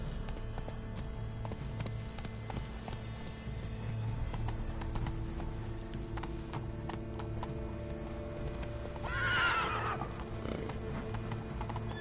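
A horse galloping in The Witcher 3, steady hoofbeat clip-clop with a loud neigh partway through, over continuous low game ambience.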